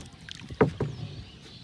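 A small rowing boat moves across open water. Two distinct oar splashes land close together, set against soft wind and a quiet background.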